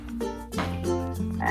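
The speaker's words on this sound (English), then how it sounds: "Frog." Frog croaking in a steady series of low, buzzy calls, fairly loud and close, with no voices over it.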